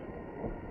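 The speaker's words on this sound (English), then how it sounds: "You can hear a train in the background." Low, steady rumble of a distant train rolling along, a continuous muffled drone without any voices.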